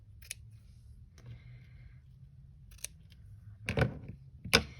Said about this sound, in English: Then I'm just going to give my seam binding a little trim.